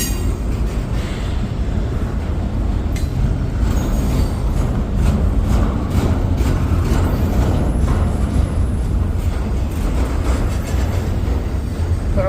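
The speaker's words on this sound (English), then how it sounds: "Yep, 3 locomotives on the front of this." A freight train led by three locomotives rolls past at close range in a loud, continuous heavy rumble with steady wheel clatter throughout.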